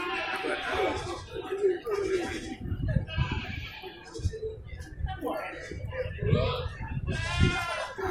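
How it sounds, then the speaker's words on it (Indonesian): Goats bleating among hundreds at the Sibreh animal market in Aceh, several calls rising over a busy crowd, with traders talking close by throughout. "Ada ratusan ekor kambing"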